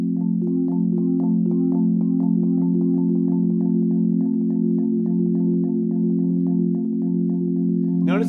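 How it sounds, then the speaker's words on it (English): A four-mallet roll on a pitched percussion instrument, a dense sustained ringing chord with a consistent, evenly repeating rhythmic pulse, played close and loud throughout. "With four mallets, that same pattern, rhythmic pattern also is consistent, and it sounds like this."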